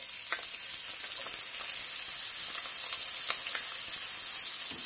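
Onion sizzles in hot oil in a pan, a steady bright crackle with sporadic small pops, close and moderately loud.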